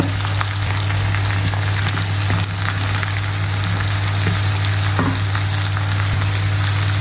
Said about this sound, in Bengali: তো এটাকে একেবারে হাই হিটে আমি সতে হতে দেব।